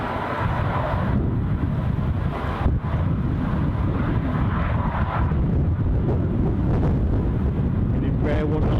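KLM Embraer 190 jet at a windy Edinburgh Airport, a low engine rumble heavily mixed with gusting wind noise on the microphone, continuous with brief dips and crackles.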